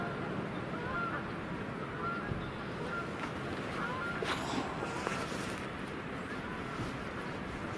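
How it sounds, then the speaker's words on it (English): Distant geese flying in give a few faint, scattered honks over a steady broadband background of wind or water noise, with no clear voices. "I believe I hear a couple more geese coming in."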